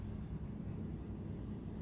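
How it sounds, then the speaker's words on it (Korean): A low, steady rotor-like rumble drones continuously from a distance, police helicopters passing over downtown Los Angeles, with no voices. "헬기 소리 가 들려요 지금 점점 더"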